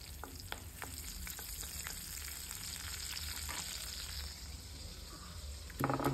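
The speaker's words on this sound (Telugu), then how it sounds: "అదే కళాయిలోని ఆయిల్ వేసుకొని పచ్చిమిరపకాయలు, కరివేపాకు" Green chillies and curry leaves fry in oil in a kadai, a continuous close crackle and sizzle with scattered sharp pops and a louder burst at the end, no speech.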